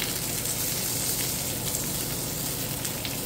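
Lollipop lamb chops searing in a hot pan give off a steady, close, crackling sizzle with fine spitting pops throughout, no voices over it.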